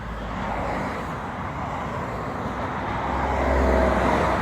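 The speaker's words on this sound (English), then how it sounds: "But hey, look, more traffic. Awesome. And more traffic." Road traffic rumbles steadily near a bridge approach into Vancouver, with cars passing and a low roar that swells slightly toward the end.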